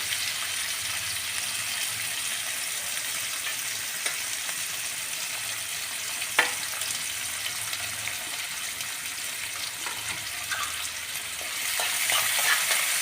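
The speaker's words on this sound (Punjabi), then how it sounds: "ਹੁਣ ਆਪਾਂ ਜੀ ਪਾ ਰਹੇ ਹਾਂ ਇਹਦੇ ਵਿੱਚ ਪਿਆਜ਼ ਲਸਣ ਆਪਾਂ ਨੇ ਕੱਟ ਕੇ ਵਿੱਚ ਪਾਤਾ ਜੀ" Chopped onion and garlic fry in a pan with a continuous, even sizzle, punctuated by an occasional stirring clink and growing slightly busier toward the end.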